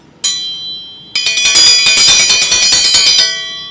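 A newly forged steel dinner bell rung at a forge: one clear strike with a ringing tone, then a rapid run of loud metallic clangs that sustain and slowly decay, close and alone.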